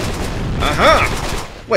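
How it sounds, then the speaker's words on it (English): Explosion and rapid gunfire in the retro shooter Dusk, a dense burst of crackling blasts with a rising whooshing tone, loud and close, while someone speaks briefly over it. "is that a non-lethal explosion?"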